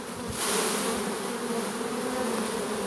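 Honeybees buzz around a hive cluster, a steady, dense hum of many wings close by, rising slightly at the start and holding evenly for about three seconds with no talk.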